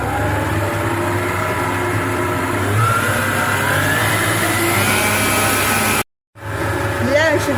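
An electric mixer whirring at maximum speed through cake batter, a steady motor drone with shifting pitch that cuts out abruptly near the end and then restarts.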